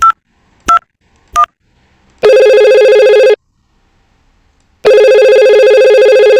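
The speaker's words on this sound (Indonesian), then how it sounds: "Kita coba telepon ke yang sebelahnya." A telephone dials a neighbouring extension with three short, crisp keypad tone bursts, then two long, loud ringback tones separated by a pause.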